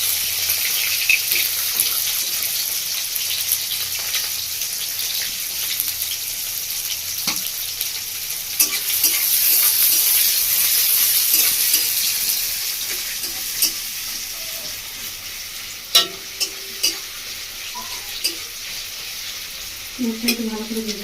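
Chopped onion frying in hot oil in a pan, a continuous sizzle with occasional stirring scrapes and clinks, plus brief bursts of running tap water.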